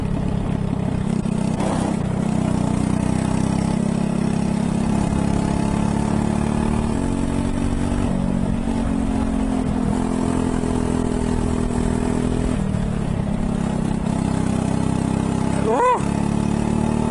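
A go-kart engine drones steadily while the kart is driven, a continuous mid-pitched hum with slight rises in revs that runs through the whole stretch, loud and close.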